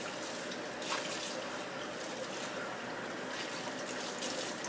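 Cold tap water runs into a sink while seeds and membrane are rinsed out of halved bell peppers, a steady close trickle and splatter lasting several seconds with no talk.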